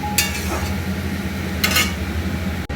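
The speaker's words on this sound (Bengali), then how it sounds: "সবজিটা আমি নেড়ে চেড়ে মশলার সাথে মিশিয়ে নিয়েছি" Vegetables (radish, potato, beans, eggplant) being stirred with spices in a pan, heard as a few brief scraping strokes of a utensil over a faint steady sizzle and background hum, with no talking.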